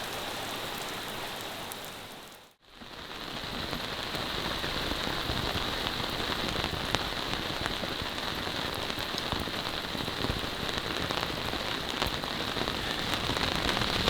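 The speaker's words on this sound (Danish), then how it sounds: "Så passerer den her regnbyge forhåbentlig." Rain shower at a harbour while sailing, a dense, even hiss of drops on surfaces continuing steadily with one brief dropout near the start, no voices.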